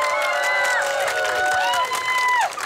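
A live audience at an outdoor karaoke show on a city square applauds and cheers loudly for a named guest, a steady roar of clapping and shouts with whistle-like tones and a voice calling over it.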